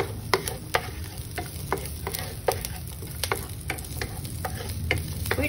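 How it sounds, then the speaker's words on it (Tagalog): Garlic and onions sizzle steadily in a hot pan while a utensil scrapes and taps against it in irregular clicks, close and fairly quiet, with no one speaking. "Okay, saute the garlic."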